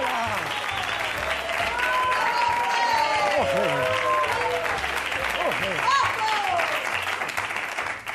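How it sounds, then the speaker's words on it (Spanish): A studio audience gives a strong round of applause welcoming a guest named Onofre on a comedy show, steady dense clapping mixed with cheering and whistles throughout. "Recibamos con un fuerte aplauso a Onofre"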